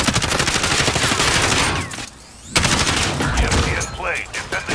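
Dense, rapid video-game gunfire rattles nearly nonstop in loud sustained bursts, with a brief lull midway before the shooting resumes just as heavily.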